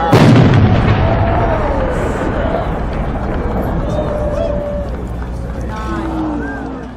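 A large 16-inch aerial firework shell at a winter fireworks showcase booms loudly on launch, followed by rolling rumble, crackle and whistling tails, with a crowd and talk underneath.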